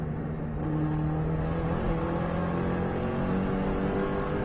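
A Subaru pulls hard after a downshift on an Isle of Man road lap, its engine droning loud and steady with rising harmonics throughout, no voices present.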